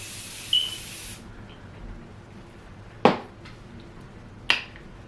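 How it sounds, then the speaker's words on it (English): A brief, close misting hiss of Morphe setting spray onto a face lasts about a second, then quiet follows with two sharp clicks. "spray my face with the Morphe setting spray"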